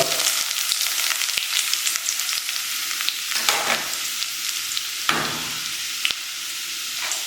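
Ginger frying in oil for a Kerala fish milk curry, a steady loud sizzle throughout with scattered crackles and a few sharp clicks of a spoon stirring in the pan.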